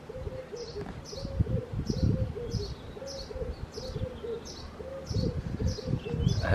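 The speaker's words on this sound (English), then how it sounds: "Hear the birds, maybe you can hear them too." Repeated high, rapid chirps come in regular bursts over a low cooing, busy and fairly close, like young birds calling from a nest.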